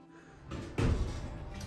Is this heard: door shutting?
yes